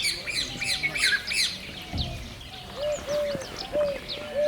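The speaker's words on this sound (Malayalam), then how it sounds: "ഒരുപാട് പക്ഷികളുടെ സാന്നിധ്യം ഉള്ളതുകൊണ്ട് നല്ല രസമുള്ള ഒരു കാഴ്ചയായിരുന്നു" Many wild birds call in Gir forest, with a dense layer of squawks and chirps up high and repeated cooing, whistled calls lower down, fairly close and continuous with no talk.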